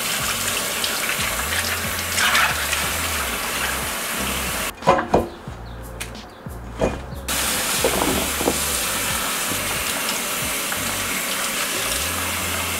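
A kitchen tap runs steadily as vegetables such as kale are rinsed beneath it, a continuous close hiss and splash that briefly stops partway through, then resumes under handling noises.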